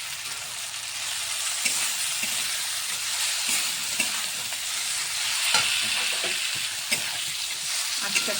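Small puti fish frying with cooked tomato in a pan, a steady close sizzle with scattered crackles and light stirring taps throughout.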